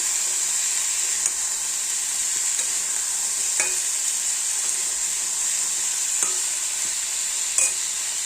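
Bata fish frying in a pan: a steady, close hiss of oil sizzling throughout, with a few faint clicks and scrapes of stirring now and then.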